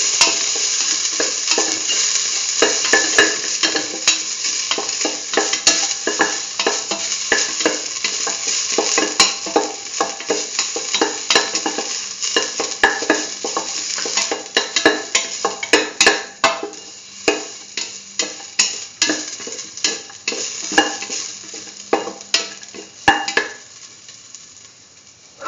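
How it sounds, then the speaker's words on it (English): Ginger and salt frying in oil in a pan, a bright steady sizzle broken by frequent sharp clicks and scrapes of a utensil stirring against the pan, growing sparser toward the end. "Spread the oil in the pan. Put in the ginger,"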